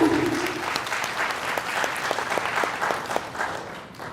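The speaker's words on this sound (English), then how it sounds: "Applause for you, persistent people." Applause from the audience at a student conference keynote fills the room, a steady wash of many hands clapping at moderate volume, easing slightly toward the end.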